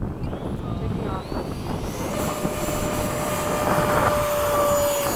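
A Freewing 80mm F-86 RC model jet with an FMS ducted fan takes off, a steady loud whine and rising drone that builds through the clip, with a tone sweeping upward.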